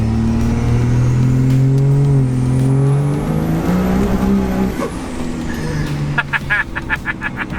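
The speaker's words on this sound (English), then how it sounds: "when that turbo spools, baby, it just absolutely lights" A DDG47 truck accelerates loud and close, its engine note climbing steadily over several seconds with a rising turbo whistle, then easing off before a burst of rapid clicking near the end.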